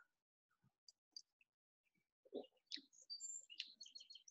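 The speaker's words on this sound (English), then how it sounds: "Birds are chirping away." Birds chirp in the early morning, very faint and distant at first, then a brighter run of quick high tweets and trills builds near the end, with no talk.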